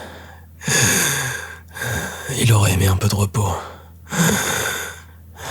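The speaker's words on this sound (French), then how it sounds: "Sa respiration était sifflante. Difficile." Heavy, labored, wheezing breaths drawn in and out with a raspy edge, repeated at a slow rhythm, with a voice speaking briefly in between.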